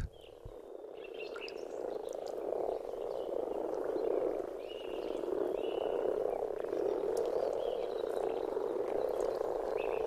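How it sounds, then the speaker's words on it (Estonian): A chorus of male frogs croaks in spring during breeding season, a continuous dense rasping drone from many animals at moderate distance, with a few higher calls above it and no talking. "isased konnad krooksuvad kevadel eriti uhkesti"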